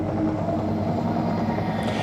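A rescue helicopter flying during a flood airlift roars steadily and loudly, its dense rotor and engine noise filling the whole clip without any talk.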